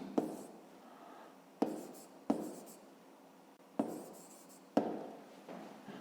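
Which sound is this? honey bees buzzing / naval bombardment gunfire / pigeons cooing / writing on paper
writing on paper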